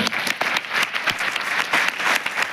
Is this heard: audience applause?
yes